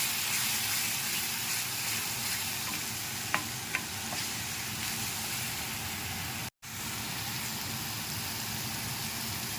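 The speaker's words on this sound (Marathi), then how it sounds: "मसाला चांगला फ्राय करून घ्यायचा." Masala frying for a green field bean curry, a loud continuous sizzle with the constant scrape of stirring and a couple of sharp utensil taps, no talk.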